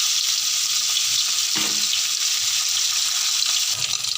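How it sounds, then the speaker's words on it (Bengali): Eggs frying in hot oil in a pan for Bengali egg curry give off a steady, loud sizzle with no pauses, and a brief clatter of stirring is heard midway. "ডিমগুলোকে ভালো করে ভেজে নিতে হবে।"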